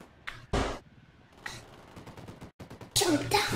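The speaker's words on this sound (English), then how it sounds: "there's dudes over there shooting our other dudes" Scattered gunshots and bursts of fire in the Ghost Recon Wildlands video game, sharp cracks separated by short gaps, with a louder rattling volley near the end.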